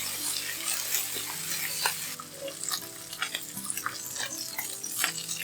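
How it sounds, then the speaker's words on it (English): Pork belly sizzles steadily in a cast iron skillet over low heat as its fat renders, a continuous close crackle with brief stirring and scraping touches. "Lay the pork in a cold cast iron skillet, then turn the heat to low."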